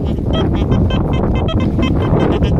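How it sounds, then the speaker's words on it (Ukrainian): Strong wind buffets the microphone in a loud, continuous low roar with gusting surges throughout. "Так, вітер сильний."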